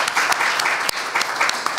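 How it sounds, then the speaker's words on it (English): A seated lecture audience claps for the panel at a climate activism talk, a dense burst of applause that holds steady for a couple of seconds with a few sharper individual claps standing out. "maybe we have a quick round of applause just for my fellow panelists up here"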